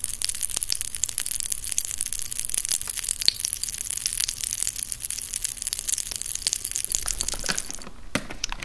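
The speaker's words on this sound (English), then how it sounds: "that's the familiar popping sound from Pop Rocks" Pop Rocks candy pops in water with constant crackling and fizzing, a dense rapid sizzle that continues steadily, then quiets near the end.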